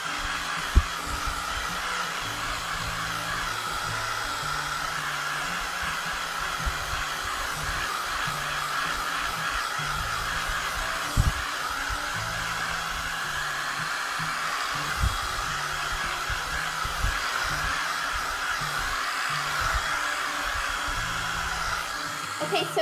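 A hair dryer blows steadily on a Christmas farmhouse craft project, a constant close whirring hum with airy hiss running without a break, with a few faint knocks.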